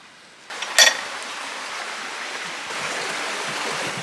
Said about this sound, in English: I can hear water as well in the background